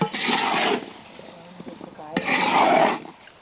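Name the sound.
stirring Indian gooseberry pickle in a pan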